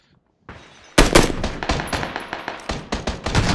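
Video game gunfire: a short burst followed by rapid, repeated automatic shots, loud and sharp, crackling in quick succession.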